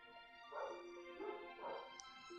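Several dogs bark in short bursts, muffled and faint as if from upstairs, three or so yips and barks under continuous tonal game music.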